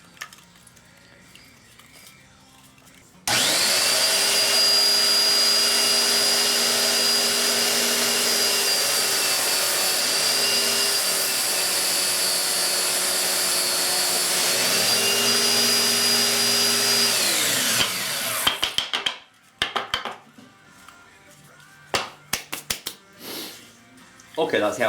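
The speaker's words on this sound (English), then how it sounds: "Okay, that's the outside sanded." A power sander works the outside of a wooden cube-within-a-cube. It makes a loud, steady whine that runs for about fifteen seconds and then spins down, with some handling knocks and clatter afterward.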